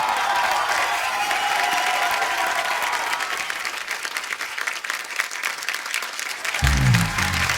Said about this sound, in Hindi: ओ जोरदार तालियां एक बार बाबा जी के लिए।